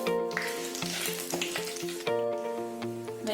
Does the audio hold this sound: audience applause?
no